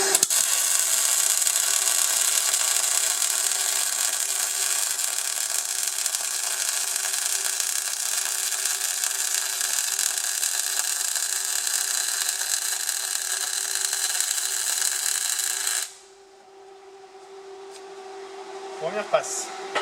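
MAG welding lays a first pass on a horizontal butt joint in thick steel plate: a close, steady crackling hiss runs for about sixteen seconds, then cuts off abruptly, leaving faint handling noises.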